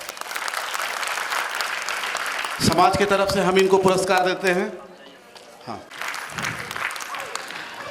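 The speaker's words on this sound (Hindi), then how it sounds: "इनके लिए एक तालियां बजाया जाए।" Audience applause at a community annual general meeting as students scoring above 90% are honoured, a dense burst of clapping rising mid-way, fading, then returning, with someone speaking over it at the start.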